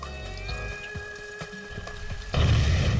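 Thermite burns inside a car: a steady hiss and crackle with scattered pops and thuds, then it swells suddenly into a louder, rougher roar near the end.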